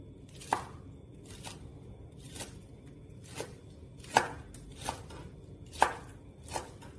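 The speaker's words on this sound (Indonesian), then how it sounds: "Dan kita potong daun bawangnya juga." A knife chops spring onions on a cutting board in a home kitchen, about eight crisp, separate strikes at an irregular pace over a quiet background.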